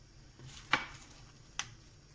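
Two crisp, quiet snips as a tea bag is cut open, spaced about a second apart against a soft room hush, with no voices.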